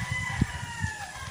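A chicken scratching about outdoors gives a couple of short, low clucks over a steady background hum.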